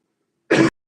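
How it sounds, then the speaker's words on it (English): A single short, harsh cough from a woman during a live craft stream, close and abrupt, followed by silence. "oh, please don't let me have a coughing fit"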